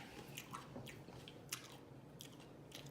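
Coleslaw being chewed close to the mic in a mukbang-style eating session, with soft wet squishing and intermittent crisp bites repeating steadily across the clip, no talking.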